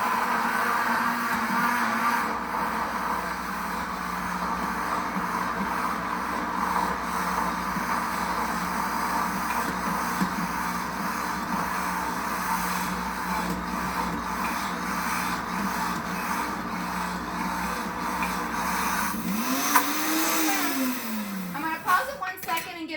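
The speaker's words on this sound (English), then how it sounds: "So we're going to push our start setting. So our nuts are going to begin to grind." Pampered Chef Deluxe Cooking Blender grinding nuts for Nutella, a loud continuous motor whir with rattling, holding steady for about twenty seconds before winding down with a falling pitch.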